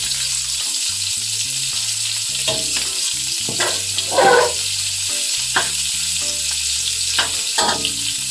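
Shrimp sizzle and crackle in a hot wok while being stir-fried for Thai fried rice, a loud continuous fry punctuated by brief louder hisses as the pieces are flipped and tossed.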